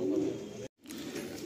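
Black pigeons cooing close by in low, throaty rolls. A brief silent gap splits the cooing, which then resumes at the same steady level.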